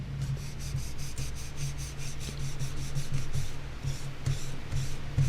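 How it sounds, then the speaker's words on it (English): Cloth with alcohol rubbed against the surface of a heatsink block, producing a steady scrubbing rasp in quick repeated strokes, close up and without speech. "with a bit of alcohol, clean the surface of the heatsink block"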